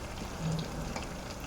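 Ginger garlic paste frying in hot oil gives a soft, steady sizzle that holds close and even for the moment, with no talking over it.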